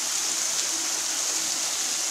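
Sun-shower rain falls outdoors as a dense, even hiss of drops, loud and close, steady with no breaks and no voices over it.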